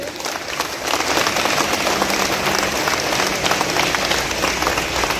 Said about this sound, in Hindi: अच्छा, एक बार जोरदार ताली बजाइए।